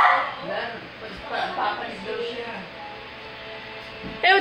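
A dog barks and yips several times in short bursts, with people talking over it.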